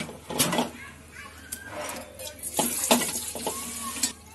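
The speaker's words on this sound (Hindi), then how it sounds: "तो अभी मैं इसके अंदर डालती हूँ जो बैंगन मैंने काट के रखी" Cut eggplant is added to a pot of cooking mutton masala for Hyderabadi baigan gosht salan, giving soft clattering, wet stirring scrapes and a light sizzle in uneven bursts at close range.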